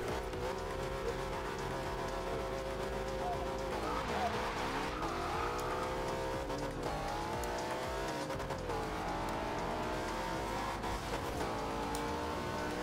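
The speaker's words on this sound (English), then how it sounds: "We're just doing a little bit of drag racing here to finish up with this first car meet." Cars drag racing at a car meet, loud engines revving and rising in pitch through gear changes, with tire noise and voices talking over the steady roar.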